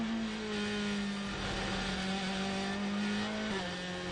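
LMGT3 and hypercar race cars thunder through a twisty section of track, with a steady loud engine drone and shifting pitch as cars squeeze past one another, continuous with no voices.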